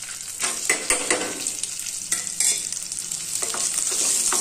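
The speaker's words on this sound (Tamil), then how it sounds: "இதையும் நம்ம வதக்கிக்கிட்டு இப்போ வெங்காயம் போட்டுக்கலாம்." Garlic cloves and a small piece of ginger sizzle loudly in hot oil for a crab gravy, with steady frying hiss broken by a few scraping stirs of the spoon in the pan, and no one speaking.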